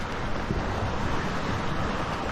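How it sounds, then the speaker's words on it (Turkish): Large waves roll in at sea near rocky shores off El Nido beaches, a loud, dense, continuous surging roar close by with slight swells in intensity and no talking. "zaman zaman büyük dalgalar geliyor"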